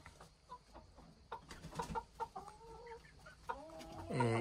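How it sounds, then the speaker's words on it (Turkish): Bantam chickens, two roosters and eight hens in a garden run, clucking and chattering in short bursts throughout, with a louder squawking call rising at the very end. "İki horoz, 8 tavuğumuz var cüce koşunda."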